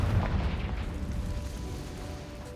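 A Confringo fire spell blasts in Hogwarts Legacy, a loud booming explosion at the start that rolls into a sustained low rumble and crackle, fading slowly over a couple of seconds.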